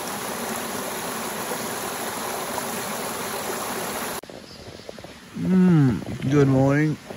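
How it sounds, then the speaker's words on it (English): A small creek flowing near a hammock campsite on a Cape York trip gives a steady broadband rush, cut off partway and followed by close, faint wildlife calls. "A little creek in the background."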